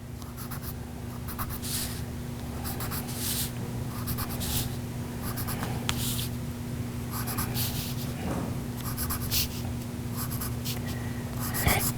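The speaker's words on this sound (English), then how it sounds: "lining up the ruler at 1/2 inch and drawing a straight line" A pen drawn along a ruler on a paper pattern, making soft repeated scratchy strokes in short regular bursts over a steady low hum, fairly quiet and close.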